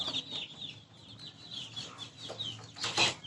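Two-month-old chickens cluck softly at close range, with scattered higher calls and a brief flurry near the end, no talking over them.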